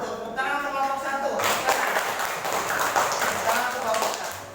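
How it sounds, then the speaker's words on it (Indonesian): A class of students claps steadily for several seconds for a student group in a classroom, a dense patter of hands. A voice speaks in Indonesian at the start before the clapping builds. "Tepuk tangan untuk kelompok 1."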